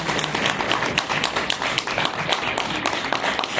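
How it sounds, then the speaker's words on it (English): Audience applause for a speaker at an indoor training event, a dense, steady wash of many hands clapping, fairly loud and sustained throughout without pause. "let's clap for her"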